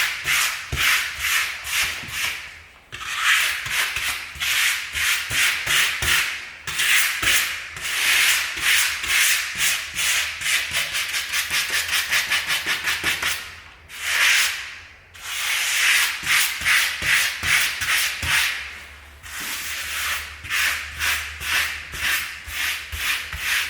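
A grout float sweeps grout diagonally across a floor tile during a DIY tile replacement, making steady, close scraping and rubbing strokes in quick repeated passes with a few brief pauses, and no talking.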